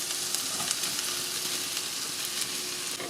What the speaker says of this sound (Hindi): वेजिटेबल को 5 से 7 मिनट तक सौते करना है।